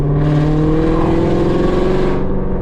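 A Ford GT350 with catless midpipes gives a loud, sustained exhaust drone that rises slightly in pitch, heard up close for a couple of seconds with no voices.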